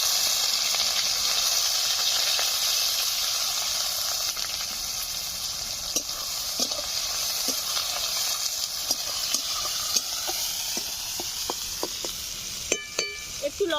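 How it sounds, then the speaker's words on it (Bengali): Chopped onion frying in hot mustard oil in a wok, a continuous close hiss and sizzle with scattered clicks and stirring knocks, busier toward the end. "তেল গরম হয়ে গেছে, কুচি করে রাখা পেঁয়াজ দিয়ে দিচ্ছি।"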